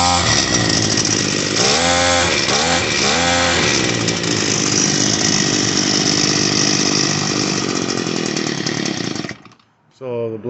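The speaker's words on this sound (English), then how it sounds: "So the blades are stuck right now, but it is running." An Echo SHC-266 hedge trimmer engine runs loud and steady after a carburetor repair, a continuous two-stroke drone with a few brief rev swells early on, cutting out abruptly near the end.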